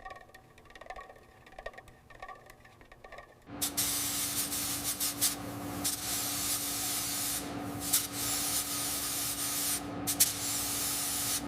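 Hunter green paint sprayed onto panels of a 1902 Mercedes 40HP Simplex during restoration: quiet workshop clatter first, then a loud, steady spray-gun hiss that runs on without a break.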